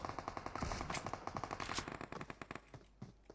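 Rapid automatic gunfire in the mobile battle-royale game PUBG Mobile, loud bursts of fast shots that thin into separate cracks toward the end, with no talking.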